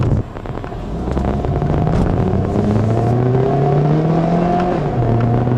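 A 2012 Honda Civic EX-L's 1.8-liter four-cylinder engine revs up hard with VTEC sound, its pitch climbing steadily before easing off, loud and close with some wind rushing past.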